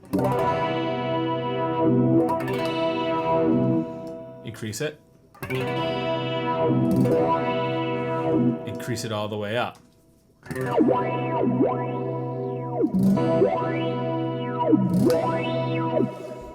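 A distorted electric guitar plays chords through an Axe-Fx III wah effect, its tone opening and closing in vowel-like swells. Someone speaks briefly between passages.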